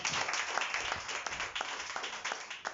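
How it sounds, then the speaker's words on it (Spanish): A church congregation claps in praise to God during a worship service, a loose, uneven patter of hands with scattered sharper claps over a soft background. "Dale un aplauso a Dios."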